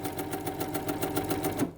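A sewing machine stitching fabric for a bias scarf, running in a fast, even mechanical chatter close by and stopping abruptly at the end.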